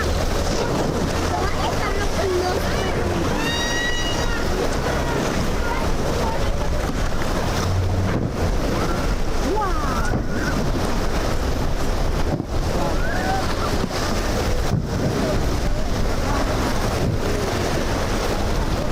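A big boat pushing through rough water, with a constant roar of waves and wind buffeting the microphone that runs unbroken for the whole stretch, loud and close, while voices murmur beneath.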